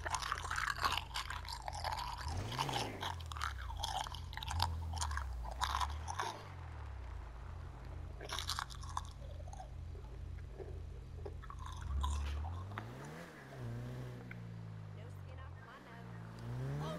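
Crunchy cereal chewed in close, repeated bites with crisp crackles, mixed with game engine and car sounds from Grand Theft Auto V, while a voice talks over it.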